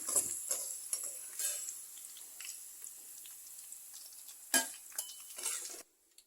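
Oil sizzles softly in a pan while an ingredient fries for pepper pickle. A spoon scrapes and clatters sharply as the pieces are scooped out, and then the sound drops to near silence.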